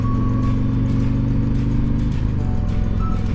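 Trucks drive by on a road, heard as a loud, continuous low engine rumble from a moving vehicle, with the pitch of the drone shifting partway through.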